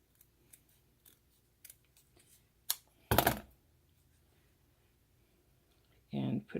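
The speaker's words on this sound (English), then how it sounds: "And so then I'm going to cut out this little collar." Scissors cut out a small fabric collar for a junk journal craft, giving a few faint clicks and then one loud, close snip, with another brief cutting burst near the end.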